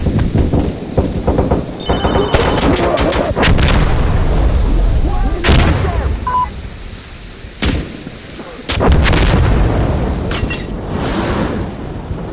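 Artillery fire support strike in the video game Insurgency Sandstorm, with loud, booming blasts and sharp impacts scattered across a dense, roaring battle soundscape.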